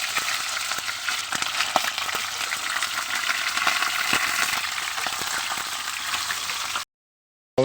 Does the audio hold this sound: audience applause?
no